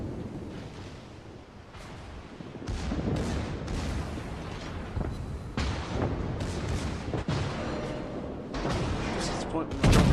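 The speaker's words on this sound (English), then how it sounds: "Secondaries keeping on firing." The Scharnhorst's secondary guns fire repeatedly in a naval battle video game, dense overlapping booms and blasts rolling continuously, with someone talking over the gunfire.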